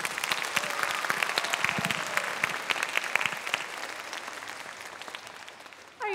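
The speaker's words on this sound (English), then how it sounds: "let's give them another round of applause" Concert audience at the Holland Center claps steadily in a dense, sustained burst of applause that thins slightly toward the end, where a voice briefly comes in.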